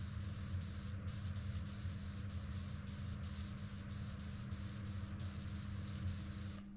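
In PowerWash Simulator 2, a pressure washer with a 0-degree nozzle blasts at a Millennium Falcon. It makes a continuous, even hiss with a low hum beneath, steady and uninterrupted throughout.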